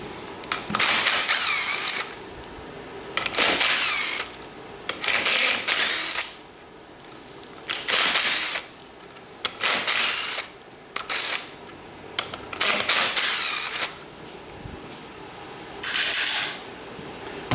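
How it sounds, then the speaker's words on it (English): A 10mm ratchet works loose the pressure plate bolts on a Yamaha Banshee engine during case splitting. Rapid clicking bursts repeat about a dozen times, loud and close, with brief pauses between them. "for your pressure plate, you're gonna need a 10mm. These 6 bolts right here."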